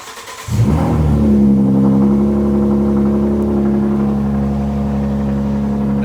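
A 2012 Ford Mustang with a 3.7L V6 and BBK long tube headers cranks briefly after a moment of quiet, then catches and settles into a loud, deep, steady idle with a droning exhaust note, close by.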